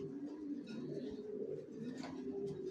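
A racer pigeon coos softly inside a cage, a low, continuous burbling murmur with no other sounds.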